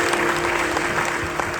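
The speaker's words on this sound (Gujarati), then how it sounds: "એમને પણ એક વખત જોરદાર તાળીઓથી વધાવો." Audience at a Lok Dayro folk music gathering in New Delhi clapping loudly and continuously, a dense sustained wash of applause from a large crowd.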